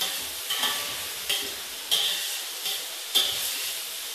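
Chicken being stir-fried bhuna style in a pot, a steady hissing sizzle punctuated by five rhythmic scraping stirs of a spoon, close by with no talking.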